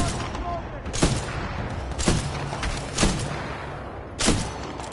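A turret in the video game Titanfall 2 fires four sharp bursts about a second apart over a constant background rumble.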